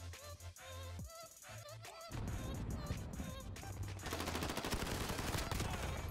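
Loud automatic gunfire from a first-person shooter free-for-all match, a weapon with a 60-round magazine firing in dense, sustained bursts that thicken and continue without pause toward the end.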